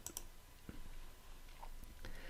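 A few quick, light mouse clicks in drawer setup software, spaced irregularly over steady low room noise, close by.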